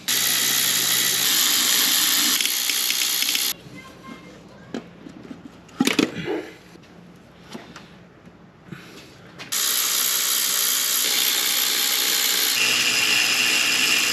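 A ratchet works on a nut on the engine of a Lexus GS300 with a 2JZ-GE, making short, close clicking turns in bursts between quieter pauses.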